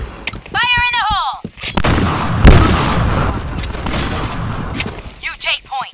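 In the Point Blank shooter game, a heavy grenade blast with a deep booming thump bursts out, followed by several seconds of dense, loud gunfire and crackling debris, preceded by a short synthesized radio-style voice.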